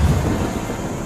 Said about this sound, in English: Red rain begins to fall from the sky.